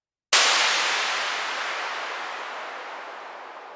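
A single gunshot sample from a sound-effects folder cracks suddenly after a short silence, then a long broad reverberant tail decays gradually over several seconds.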